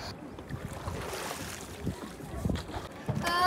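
Wooden rowboat carrying passengers on the river at Pandharpur, with steady water wash and wind rumble, occasional splashes and knocks, and a brighter wave surge toward the end.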